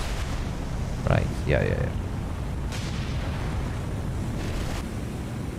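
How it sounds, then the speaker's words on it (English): Explosion in the naval combat game War on the Sea, heard as a low rumbling boom bed with a few duller blasts, while someone speaks briefly over it. "That's the explosion."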